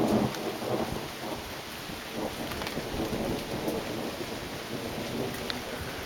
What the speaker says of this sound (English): Rain on a summer evening. Bit of wind picking up here.